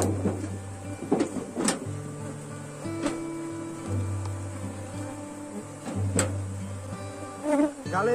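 Honey bees buzzing around a hive box during a colony split, a steady drone under intermittent clunks and knocks of handling equipment.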